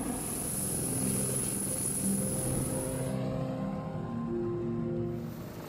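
A Sikorsky S-97 Raider prototype helicopter flies during a U.S. Army attack-reconnaissance demonstration at Redstone Arsenal, giving a steady, loud rotor and engine drone with low throbbing blade tones that holds unbroken for the whole stretch.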